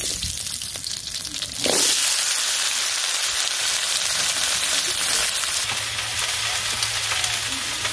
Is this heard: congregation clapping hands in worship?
no